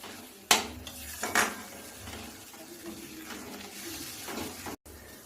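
Spice paste with a little sugar fried and stirred in a pan for paneer kofta, a couple of sharp metallic scrapes and clinks over a steady low frying hiss, close, no voices.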